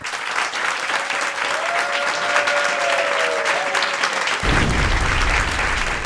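Studio audience at a French television show applauding loudly and continuously, with dense, sustained clapping throughout.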